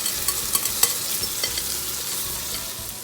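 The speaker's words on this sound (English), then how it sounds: "I add my sauce. Scrape everything." Pad thai with chicken and shrimp cooking in a hot pan as sauce goes in, a steady loud sizzle and hiss with scattered scraping and stirring clicks of a utensil, close up and without talking.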